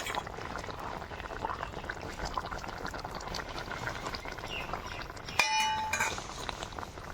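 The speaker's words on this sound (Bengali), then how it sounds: "ঝোলে মাছ দেওয়ার পরে খুব ভালো করে ফুটে গেছে" Fish curry with rohu simmering in a pan, a steady close bubbling hiss throughout, with a brief clink of a utensil near the end.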